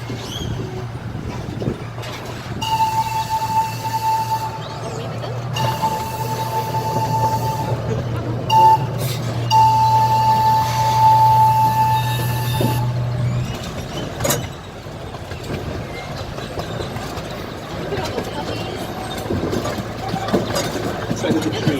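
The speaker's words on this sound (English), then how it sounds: "Your locomotive today is the Dr. Jack Express, named after Dr. John P. McGovern." A one-third scale replica of the 1863 C.P. Huntington steam locomotive runs on the Hermann Park Railroad in Houston, a steady low rumble with a sustained whistle-like tone sounding in several bursts, under a continuous hum with no talk.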